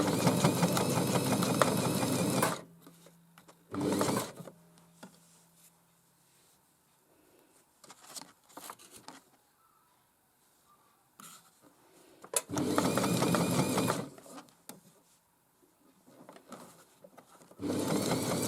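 A Janome MyXL 18W sewing machine stitches in several bursts, a fast mechanical whirring rattle lasting a couple of seconds each, close and fairly loud, separated by quiet stretches with faint handling clicks.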